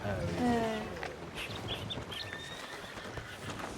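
A horse in the game Red Dead Redemption gives off soft hoof clops and shuffling while someone talks over it.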